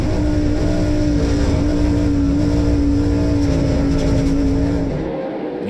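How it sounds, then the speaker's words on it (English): NASCAR Pinty's Series race car engine on a road course, throttle floated through a corner, a loud close steady drone holding a sustained pitch for several seconds before easing off at the end. "You can hear him floating the throttle down turn number four as Gary Klute struggles to maintain control"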